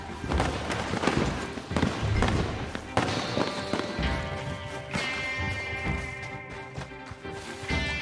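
Fireworks go off repeatedly in Red Dead Redemption 2 Online, a dense run of bangs and crackles with thumps in the first half, then lighter pops over a ringing tone, with brief voices.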